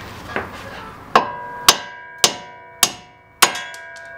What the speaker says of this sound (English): Here's one, and I'm using a 4-pound sledge here.